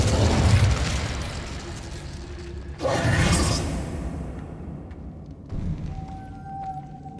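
A fire spell cast in Hogwarts Legacy gives a loud whooshing burst, with a fiery rush that swells and then fades over rumbling game ambience.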